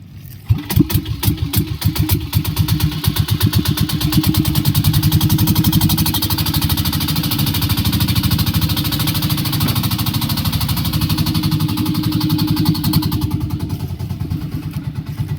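A small boat's motor runs steadily with a fast, even putter and some clatter, loud and close, on the water near a small island, continuing throughout without a break.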